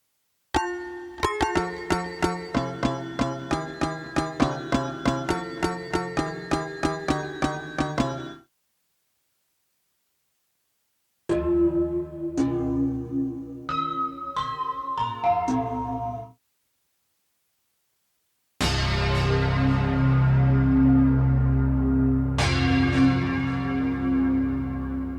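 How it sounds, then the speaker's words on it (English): A Waldorf Quantum synthesizer plays bell-like patches: a run of rapid, evenly struck chiming notes, a pause, a sparser set of ringing tones, then after another gap a dense sustained metallic wash with a fresh strike, all with no talking. "this one has some bell qualities, but this sounds pretty awesome"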